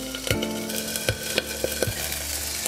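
Pieces of food sizzling steadily in a hot frying pan just after being flipped to brown the second side, with a few sharp utensil taps and clacks breaking through the constant hiss.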